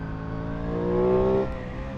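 A motorcycle engine on an Aprilia Tuono 660 without a quickshifter hums steadily, its pitch rising briefly and then dropping back as a gear change fails, close and alone with no talk.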